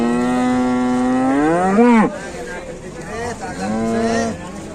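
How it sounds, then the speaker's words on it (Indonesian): A rampaging cow being unloaded from a truck bellows loudly and close by: one long, rising moo that breaks off sharply, then a shorter, lower moo. "Sapi edan."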